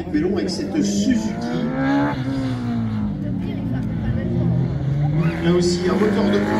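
A Suzuki Baleno RS02 race car engine revs hard at a slalom event, pitch climbing and falling through gear changes as it passes nearby, loud and continuous, with crowd babble and a commentator talking over it.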